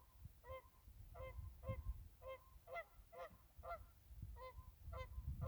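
Geese honk repeatedly beside a lake in St. Albert, Canada, a series of clear, evenly spaced calls at moderate distance over low background rumble.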